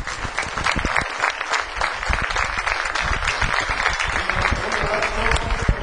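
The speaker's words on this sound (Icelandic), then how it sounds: "Hlustum að fagnaðarlætin hérna." A crowd at a women's second-division volleyball match cheers and applauds continuously, a dense wash of clapping and shouts that stays loud and steady, with scattered voices mixed in.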